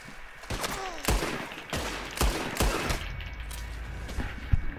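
Pistol shots ring out in the Western game Red Dead Online: several sharp, separate cracks about a second apart, fairly close, over a steady background hum.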